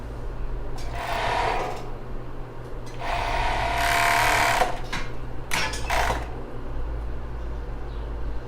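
Sewing machine stitching elastic lace for a bra, three short bursts of whirring stitching separated by pauses over a low steady hum.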